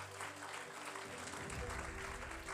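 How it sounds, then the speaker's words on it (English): Audience applause at a university awards ceremony, continuous clapping across the clip with a low hum or music tone underneath. "Round of applause."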